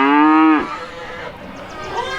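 A weaning calf in a farm pen bawls one loud, close, tonal moo that breaks off sharply, followed by quieter low lowing and faint rustling.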